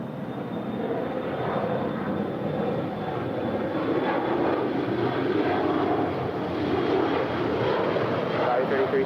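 An Alaska SkyWest regional airliner departs the runway at LAX with a steady, roaring engine noise and a thin high whine, while muffled radio talk sits underneath.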